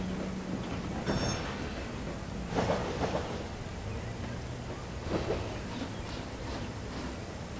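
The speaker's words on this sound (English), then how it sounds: "bringing his train into the station" A train rumbles in with a low steady roar and a few faint clanks and squeals, heard from some distance and fairly quiet.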